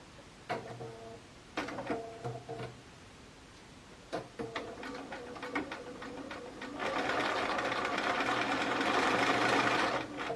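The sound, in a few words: sewing machine speed sewing a quilt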